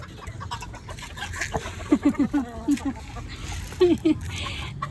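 Roosters on a backyard farm give short clucks and throaty calls in a quick cluster, near and moderately loud, with a person talking over and between them.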